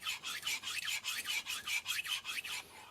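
A kitchen knife drawn over an FSK 12K super vitrified diamond stone gives a steady series of rough, rasping strokes, about a dozen in even rhythm, close and fairly loud with no talk.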